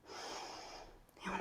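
A deep breath drawn in during a yoga session, a steady, close airy inhale lasting about a second before a brief shift in tone at the end.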